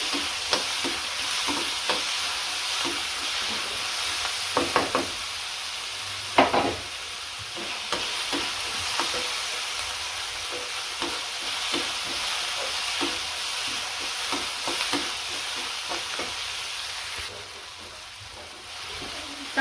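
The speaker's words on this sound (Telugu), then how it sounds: "టమోటా పెద్ద టమోటా ఒకటి కట్ చేసి పెట్టుకున్నాను అదిగా నేను యాడ్ చేసుకుంటున్నాను అదిగా మంచిగా కొంచెం ఫ్రై కావాలి" Chopped large tomato frying in a pan gives a continuous close sizzle, broken by scraping stirs and a few louder clacks of the spoon against the pan, with no talking.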